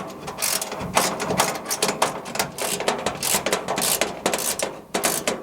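Steady run of quick ratcheting clicks and small metallic mechanism noises, close and fairly loud, from bolts being snugged by hand on an Agile Model 52 Gen 1 ultralight gun safe cabinet of 14 gauge steel.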